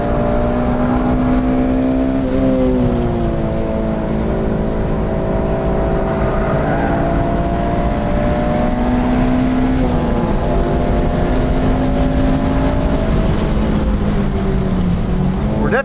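An 8th gen Honda Civic Si runs hard on a race track, its engine droning loud and steady with rising and falling pitch as it accelerates and lifts through corners, with heavy road and wind roar throughout.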